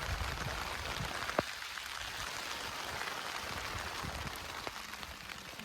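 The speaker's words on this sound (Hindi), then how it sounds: "अभी तेज़ बरसात शुरू हो चुकी है। ये हमारी कैंप साइट के बाहर बरसात की बूंदें गिर रही है।" Heavy rain falls at night outside a campsite in Banswara, Rajasthan, with a dense, steady hiss of drops and a few sharper nearby splashes throughout.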